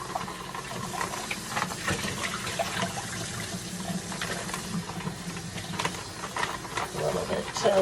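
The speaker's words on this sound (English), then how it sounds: "I'm going to run it under the water." Shrimp rinsed under a running kitchen tap, a steady broadband rush of water splashing close by in a sink, continuous for several seconds with small clinks near the end.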